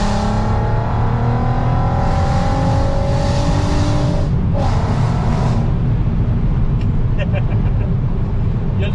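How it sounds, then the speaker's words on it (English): A straight-piped VW Golf R32 revs hard in third gear, a loud, raw engine roar with rising pitch that briefly drops off before building again, heard from inside the car. "The fact that this sound is coming from a Golf."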